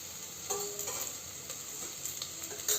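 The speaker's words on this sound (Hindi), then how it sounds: "कनी देर में चला के भूज लेवे" Jackfruit pieces sizzle softly in a pan as a spoon stirs them, quiet continuous frying with a few scraping knocks, no voices.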